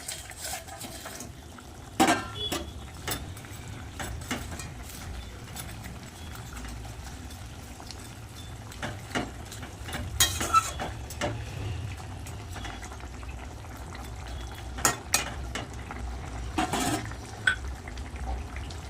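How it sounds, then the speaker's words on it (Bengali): Fish broth bubbling at a steady boil in a pan on the stove, with sharp clinks and clatters as fried fish pieces and utensils go in, all close and fairly quiet, with no talk. "ঝোল কিন্তু ফুটে গেছে ভেজে রাখা মাছগুলো দিয়ে দেবো"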